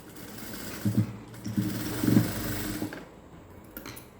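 A sewing machine stitching a seam on a cigarette-style pant with a pocket gives short, soft mechanical whirring bursts with faint clicks, fairly quiet and close, between brief pauses.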